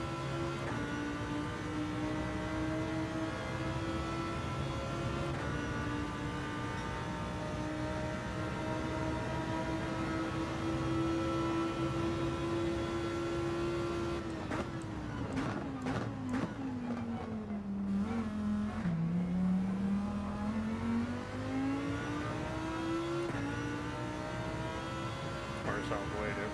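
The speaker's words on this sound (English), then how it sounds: "Car sounds way different now." Car engines in the Gran Turismo 7 racing game drone steadily at high revs, then shift and dip in pitch before climbing again, a continuous synthetic motor whine under faint background talk.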